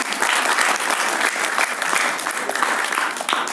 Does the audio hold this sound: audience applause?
yes